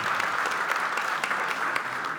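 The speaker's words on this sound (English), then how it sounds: "Just a few people clapping." A small audience claps steadily for a couple of seconds, a light, scattered round of applause.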